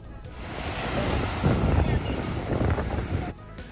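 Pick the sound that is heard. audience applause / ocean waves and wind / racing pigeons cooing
ocean waves and wind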